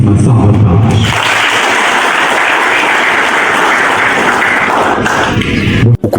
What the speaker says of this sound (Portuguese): uma fortíssima salva de palmas